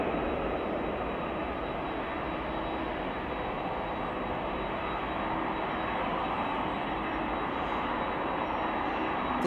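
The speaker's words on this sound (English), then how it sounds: "we got a United 777 that's landing in front of us" A United Boeing 777 lands at Chicago O'Hare Airport, heard as a steady, even jet roar from a distance with no talking.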